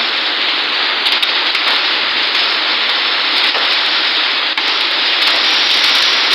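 A hailstorm in Narayanganj pours down, with heavy rain hissing loudly and steadily on surfaces and scattered sharper ticks from hailstones striking nearby.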